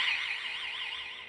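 A continuous warbling electronic tone from a Fluke TS100 cable fault finder rises and falls in a steady, rapid cycle, shrill and fairly loud, with no voices.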